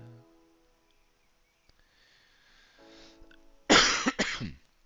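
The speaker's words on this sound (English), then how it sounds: "This cough is very frustrating." A man lets out two sharp, close coughs in a row in a quiet room after a stretch of near silence and faint background tones.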